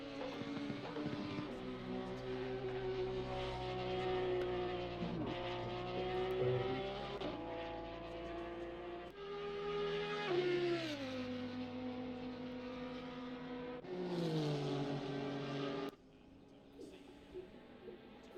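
Engines of racing cars, including BMW, Honda and Audi entries, roar down the straights at Monza in a racing video game, with sustained high revving tones and several gear shifts. The engine sound cuts off abruptly near the end.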